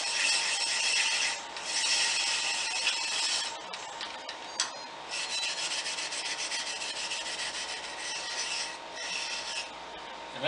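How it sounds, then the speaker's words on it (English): Rough steel wool rubbing a turned wooden coaster, probably spinning on a lathe, making a continuous dry rasping scratch close up in long sustained passes with short pauses, no talk. "take some rough steel wool and smooth it out a little bit, but still leave it rough enough for the epoxy to get a bite"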